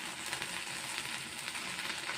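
Okra and prawn pieces cook in a pan at home, giving a soft, continuous sizzle and bubble at close range with no talking.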